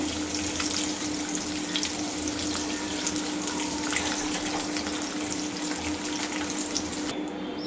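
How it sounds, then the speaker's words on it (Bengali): Lachha semai vermicelli fries in a pan for an Eid nawabi semai dessert, giving a steady, close hiss of sizzling that runs unbroken throughout with no talking. "আমি সেমাইটা ভেজে নিচ্ছি, এখানে লাচ্ছা সেমাইটা ব্যবহার করতে হবে"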